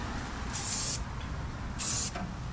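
Spray paint applied in light coats to a 1967 Craftsman top tool box, two short close bursts of hissing spray about a second apart, separated by quiet.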